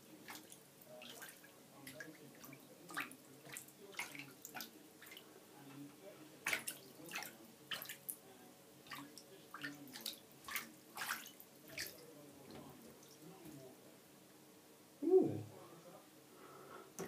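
Royal python swimming in bath water makes faint, scattered splashes and drips in a bathtub, quiet and irregular, with a brief louder sound near the end.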